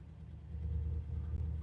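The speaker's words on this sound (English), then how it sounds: "Can you guys hear the engine" A car engine idles in neutral with the brake on, a steady low rumble that holds even and close throughout with no revving.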